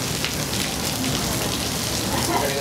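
Steady rain falls during an outdoor film shoot, a dense continuous patter and hiss that fills the scene evenly.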